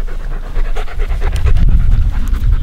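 A junkyard dog pants hard and fast in steady rhythmic bursts, close and loud throughout, with no talk over it.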